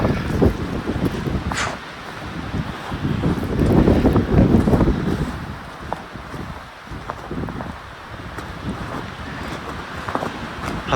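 Strong winter wind blows across an open frozen swamp, buffeting the microphone in loud, rough gusts that swell and ease over several seconds, with no talk.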